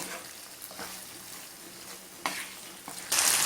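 Butter chicken pasta being stirred in a pan, with cooked pasta mixed into the gravy; soft sizzling and scraping of the spoon, a few sharper scrapes and a louder stir near the end.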